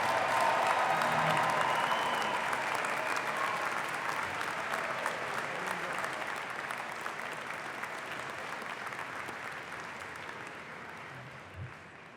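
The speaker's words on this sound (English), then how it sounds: "How about one more round of applause for all of our graduates?" Steady, dense applause from a large audience for graduates at a university doctoral hooding commencement, loud at first and slowly tapering off.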